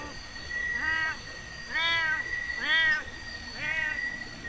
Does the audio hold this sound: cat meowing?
yes